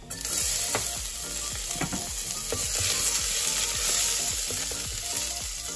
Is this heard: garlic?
yes